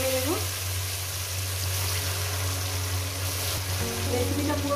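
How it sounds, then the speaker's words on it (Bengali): Marinated hilsa fish paste is poured into hot oil and sizzles loudly and steadily close up, with a few stirring scrapes near the start and end. "আমি এই মাছ মাখাটা এর মধ্যে ঢেলে দেব বন্ধুরা। একসঙ্গে ঢেলে দেওয়া যাবে না, তেল ছিটকে দেবে"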